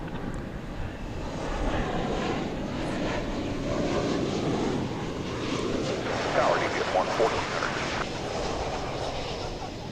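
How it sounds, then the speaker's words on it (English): An Alaska Airlines Boeing 737 MAX 9 lands at DFW Airport after arriving from Seattle, a broad, rumbling jet roar that builds and swells, heard from a distance outdoors with background murmur. "That was Alaska Flight 491, a MAX 9, coming in from Seattle"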